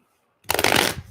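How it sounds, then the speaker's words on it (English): A deck of animal spirit cards is shuffled by hand, a short burst of crisp riffling and fluttering that starts abruptly after a moment of silence and carries on close and loud without any voices. "I'm going to shuffle this."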